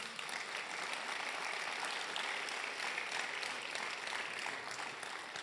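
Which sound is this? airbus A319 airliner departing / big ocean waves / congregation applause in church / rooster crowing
congregation applause in church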